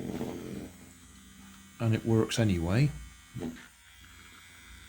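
Vibrating toothbrush bristle bot, a steady low electric buzz running close by throughout, briefly masked when someone speaks in the middle.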